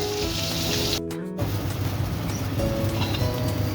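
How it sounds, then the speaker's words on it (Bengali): Continuous hissing crackle of fish frying in hot oil, briefly interrupted near the start, then steady and close with a low background hum. "মাছটা ভাজা হয়ে গেছে সুন্দরভাবে"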